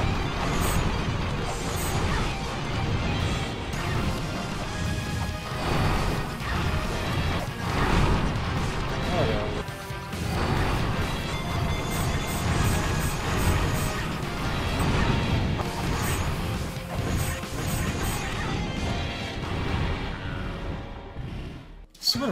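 Rocks burst and crash in La-Mulana 2, a dense, continuous run of loud smashing and thudding impacts layered over busy game music and effects for over twenty seconds.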